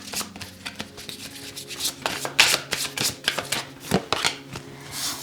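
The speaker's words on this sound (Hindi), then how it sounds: "ये थोड़ा बड़ा डेक है, इस वजह से मैं इसे आधा आधा करके शफल कर रही हूँ" Large tarot deck shuffled in halves by hand, a close run of rapid papery riffles and soft slaps in uneven bursts, with no talking.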